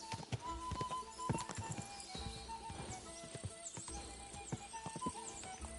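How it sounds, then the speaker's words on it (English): Horse hooves clip-clopping in Kingdom Come: Deliverance II, a steady walking rhythm of close hoofbeats mixed with game ambience, music and occasional whinny-like calls. "O cavalo é muito lento, mano."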